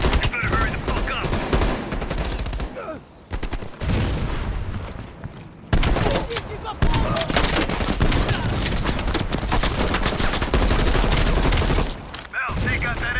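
Heavy machine gun fire in Call of Duty: Black Ops Cold War, loud sustained bursts broken by brief pauses, mixed with booms and battle noise, with voices talking underneath.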